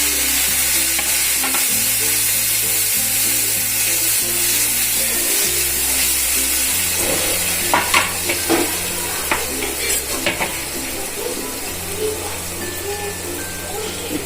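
Tomatoes sizzle in oil with garlic, ginger-chilli paste and asafoetida over a low flame, a steady loud frying hiss broken by scraping stirs from a spoon, with soft music underneath.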